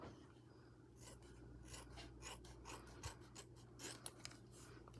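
Scissors cutting folded fabric for a crochet bag lining, a run of soft rasping snips and rubs at close range, fairly quiet and continuous.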